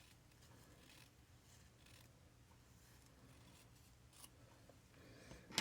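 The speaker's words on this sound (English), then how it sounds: "I'm just going to cut it down a bit." Scissors cut thin strips of toilet paper for a miniature dollhouse bathroom, a series of faint, quiet snips and scrapes that end in a louder rustle.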